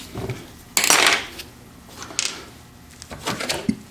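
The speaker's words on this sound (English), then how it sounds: "you can pry these funnels out like this" A plastic funnel is pried out of a T5 transmission with a metal tool, giving sharp clinks and scraping clatters in a few separate bursts, close and moderately loud.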